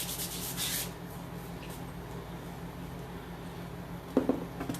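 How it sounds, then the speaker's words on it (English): Quiet, continuous rubbing of sanding pads over the tops and edges of handmade cabinet knobs, soft and close with a steady low hum beneath and a brief knock near the end. "Just sanding over the tops of them, making sure I get around the edges too."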